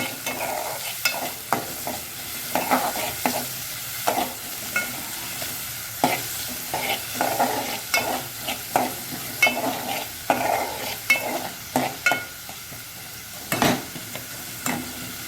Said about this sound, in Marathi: छान बघत आवाज येतो छान फोडणीचा त्यात आपण कांदा टाकलेला आहे तो व्यवस्थित हलवून घेऊया